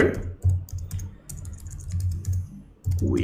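PHP code being typed on a computer keyboard: close, rapid bursts of key clicks in uneven runs, with brief pauses between them.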